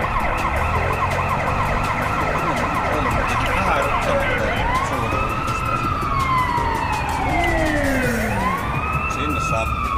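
A police car siren from the city-building game SimCity 4 wails and sweeps up and down over a dense, busy bed of traffic and city noise, rising and falling in long repeated glides while staying loud throughout.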